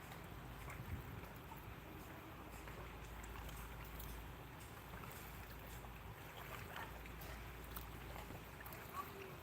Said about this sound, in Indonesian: Itu ada kapal baru berangkat satu ya.